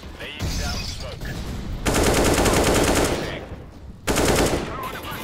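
Automatic rifle fire crackles in a Counter-Strike esports match between SK Gaming and FaZe Clan at the Boston Major, with a long sustained burst and a second shorter burst over softer game noise.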